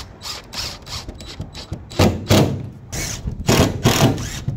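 Screws driven into a trailer roof vent flange, heard as a close, steady run of ratcheting, whirring tool bursts that swell and fade in irregular pulses.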